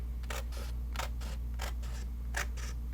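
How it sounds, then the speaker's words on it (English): Paper trimmer slicing through card for a Christmas gift card holder, a series of about eight short crisp swishing strokes in steady rhythm, close and quiet over a low steady hum. "you can use your trimmer to cut this off"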